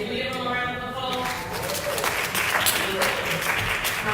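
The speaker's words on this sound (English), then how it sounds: "Can we give them a round of applause?" An audience in a room breaks into sustained applause after a presentation, dense clapping that builds and stays loud to the end.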